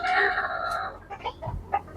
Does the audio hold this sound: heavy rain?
no